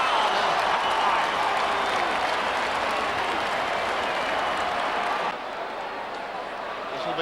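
Stadium crowd at an AFL football match roaring loudly in a dense, sustained wash of cheering and clapping, then dropping to a lower hum, with a commentator's voice faintly over it.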